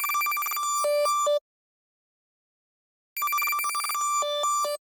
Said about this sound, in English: The synth is called Phone, and it sounds like this